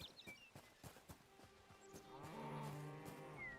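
A cow in the Hytale video game lets out a long, drawn-out moo. It follows a series of soft footstep-like taps and is heard fairly clearly.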